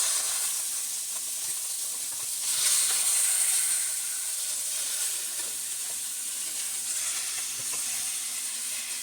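Chicken pieces browning in a pan for chicken adobo, a steady close sizzle and hiss of frying that swells briefly and then holds level, with no talk.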